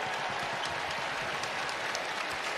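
A basketball arena crowd roars at a college game between Arkansas and UConn, a continuous wall of cheering and clapping that stays loud and even throughout.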